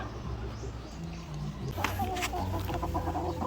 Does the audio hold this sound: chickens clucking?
yes